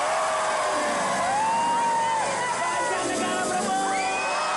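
A crowd shouting and cheering for a camera: loud, continuous massed voices with whoops and rising yells, close and unbroken throughout.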